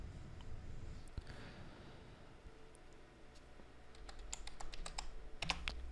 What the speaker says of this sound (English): just type in Ancestry.